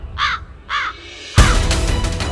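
A crow perched at a house gives two harsh, close caws with a short gap between them, then a sudden loud burst of broadband noise takes over.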